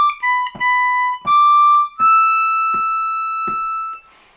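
Harmonica playing a short melodic phrase of Auld Lang Syne on a G harmonica: five clear sustained notes, each attacked with a breathy onset, moving from a higher pitch to steady lower tones, close and alone.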